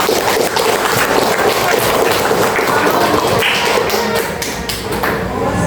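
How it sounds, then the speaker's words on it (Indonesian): Classroom of students clapping for a classmate in a school lesson, dense steady applause filling the room at close range throughout, with faint scattered voices underneath. "Tepuk tangan untuk Patrick"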